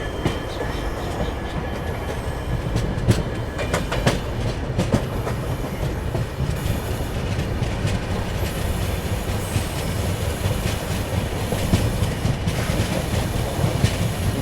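Diesel-hauled passenger train, a WDG 4D locomotive pulling coaches past at speed on Indian Railways, with a loud continuous rumble, rhythmic clickety-clack of wheels over rail joints and occasional wheel squeal, close by for the whole pass.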